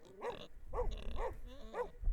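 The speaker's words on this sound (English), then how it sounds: "A local dog has decided to herd up 2 families of pigs" A local dog herding two families of pigs barks four times in an even rhythm, with each bark close, clear and moderately loud, and no talking.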